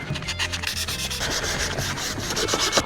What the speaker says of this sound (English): Give it another quick little sanding.